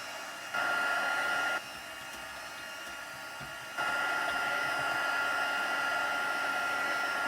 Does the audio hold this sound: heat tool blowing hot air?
yes